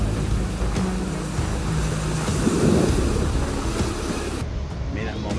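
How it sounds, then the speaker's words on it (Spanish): Ocean water surging up on the rocky shore at Quintero, Chile, a loud, continuous wash and rumble with wind noise, rising and spreading before cutting off abruptly near the end. "Mira el momento mágico como sube el agua"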